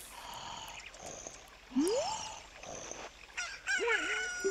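A cucco chick hatching and crowing in the Zelda Ocarina of Time 3D video game, heard as chirpy game tones and a rising whistle followed by a clear rooster cock-a-doodle-doo crow near the end, loud and alone.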